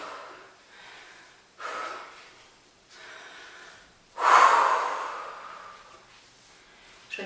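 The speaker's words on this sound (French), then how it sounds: "Je récupère enfin une respiration normale." After a home cardio workout, a person breathes heavily, with a series of deep, audible inhales and exhales that swell and fade, one strong gasping breath standing out near the middle.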